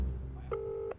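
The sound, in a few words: phone call dialing and ringing tone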